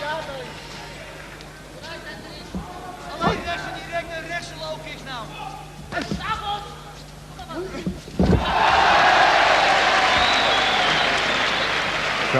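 Kickboxing arena crowd during a Holland versus Japan bout, murmuring under a commentator's voice with a few sharp slams, then swelling into loud, sustained cheering and applause for the last few seconds.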